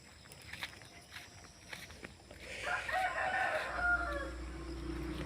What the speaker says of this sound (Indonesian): sekitar jam 7 masih banyak ayam berkokok